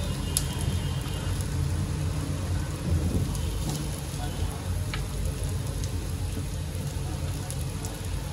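Potato slices shallow frying in a small amount of oil in a pan give off a steady, dense sizzle and crackle that runs the whole time, fairly close and even in level, with no talk over it.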